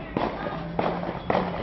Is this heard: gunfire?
yes